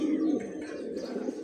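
Two aluminium male pigeons give a low, steady rolling coo, close and fairly faint, with a few brief chirpy notes mixed in.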